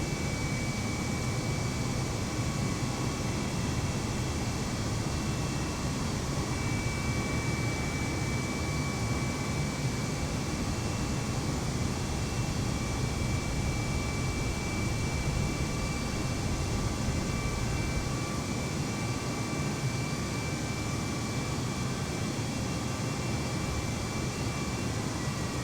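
An American airliner in Microsoft Flight Simulator takes off from runway 25 right at Los Angeles, a steady engine roar and hiss that holds at an even level for about twenty-five seconds with no voices.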